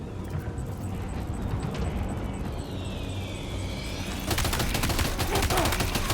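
Rapid bursts of gunfire in the video game Death Stranding 2 rattle loudly over a droning engine-like rumble, growing denser and harsher toward the end.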